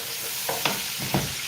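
Onions fry in a home kitchen pan with a steady hiss, broken by a few quick scraping stirs of a utensil, close and fairly loud.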